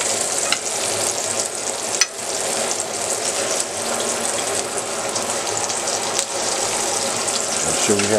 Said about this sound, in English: you want to just let that sear a little bit.